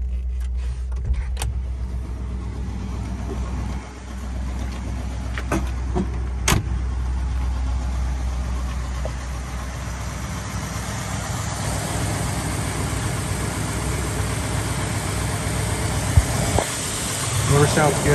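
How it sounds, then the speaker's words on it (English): A 1961 Chevrolet Impala engine idles smoothly and evenly for a long stretch, a steady low rumble with a couple of sharp clicks early on. "The engine just runs so smooth, it just purrs."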